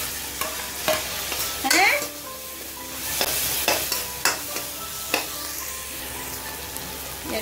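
Chopped tomatoes hit hot butter in a pan for matar paneer, giving a steady sizzle and frying hiss with a few stirring scrapes and clatters, close and fairly loud, with no talking.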